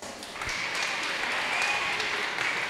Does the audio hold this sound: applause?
yes